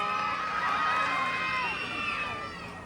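Crowd cheering and shouting at a beauty pageant in Binondo during the national costume segment, a loud, sustained mass of voices and whoops that fades slightly toward the end.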